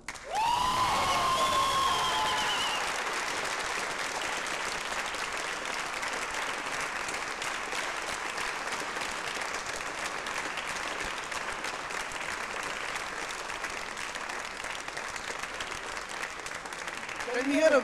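Sustained applause fills an auditorium for a woman invited on stage. Dense clapping from a large audience holds steady for many seconds, with a brief cheer near the start and a swell at the end.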